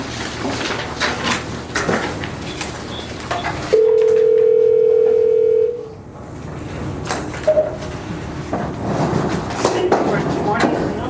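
A telephone dial tone holds steady for about two seconds while a call is placed from a courtroom during a motion calendar hearing, framed by room noise and people talking.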